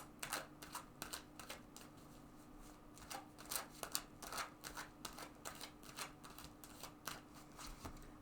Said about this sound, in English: So let's shuffle this deck a couple more times